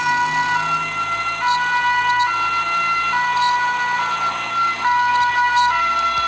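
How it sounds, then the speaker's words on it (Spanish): An ambulance siren wails steadily and loudly, its repeating tone holding close throughout, with some faint road noise beneath. "De ahí viene otra vez la sirena."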